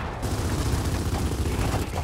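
Gunfire in the video game Gears of War 4, a dense, continuous barrage of loud shots and blasts with no pauses.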